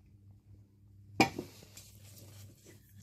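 Milk and eggs being mixed in a bowl for a sehri breakfast, a sudden clink of a utensil against the bowl followed by a few softer scraping taps, close and brief in a quiet kitchen.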